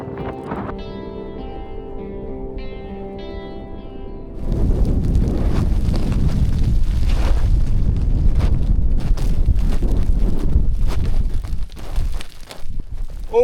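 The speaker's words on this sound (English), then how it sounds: "the wind is really crazy" Strong gusty wind buffets the microphone outdoors in the colorful badlands near Cainsville, Utah, a loud continuous low rumble after a quieter opening with a faint tonal hum, surging and dipping toward the end.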